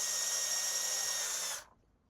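A power drill runs at a steady high whine for about a second and a half drilling through wood on an RV gate, then cuts off abruptly into silence.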